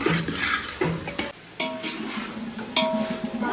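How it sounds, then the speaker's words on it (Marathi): Onions frying in a pan for pav bhaji, with a bright sizzle broken by scraping stirs and the clink of a spatula against the pan, in short bursts with brief pauses. "इथे मस्त कांदा टाकलाय आता फ्राय करायला"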